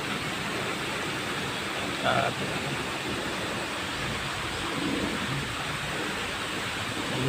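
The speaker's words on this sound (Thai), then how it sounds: "ชมความสวยงามของน้ำตกนะครับผม" A waterfall in a garden at a Thai temple, Wat Khlong Khwang in Lat Lum Kaeo, gives a steady, broad rush of falling water that fills the whole stretch, with a brief faint chirp partway through.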